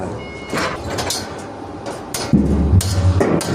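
A few heavy metallic hammer blows strike an object amid background noise, irregularly spaced, with a deeper thud and rumble near the end.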